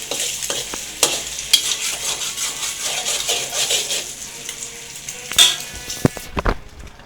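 Eggs fry and sizzle in a pan while being stirred for nasi kicap, with a steady hiss punctuated by sharp scrapes and clinks of a utensil against the pan.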